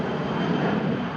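A passenger plane's engines roaring steadily at Manchester Airport in northwest England, a sustained broadband rumble heard without any voices.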